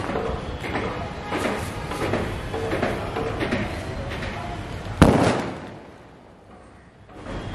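A single sharp, loud Diwali firecracker bang bursts out after a stretch of crackling and rustling, then fades into quiet.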